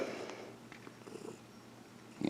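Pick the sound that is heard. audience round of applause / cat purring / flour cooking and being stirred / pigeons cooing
cat purring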